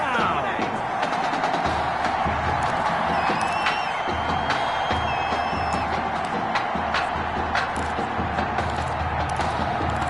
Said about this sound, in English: A big-time play that gets a roar from this crowd.